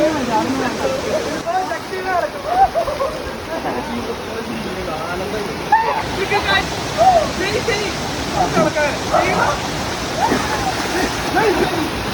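Atla waterfall pouring with a steady rushing hiss of falling water, continuous and fairly loud, while people talk and call out over it throughout.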